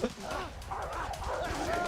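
Dogs in the video game A Way Out bark and yip in short, close bursts, tangled with a man's excited, raised voice talking over them.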